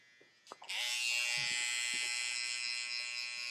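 Electric clippers buzz steadily at close range as they shave stray hair under a beard, starting after a few light clicks and then holding a loud, even whine throughout.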